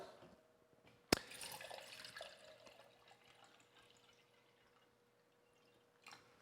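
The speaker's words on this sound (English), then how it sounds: "we're going to pour out 600 milliliters here of liquid" Distilled water being poured into a graduated cylinder, a sharp knock followed by a soft trickling splash that fades over several seconds, then a brief clink near the end.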